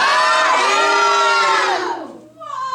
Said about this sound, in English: let's yell wahoo really loud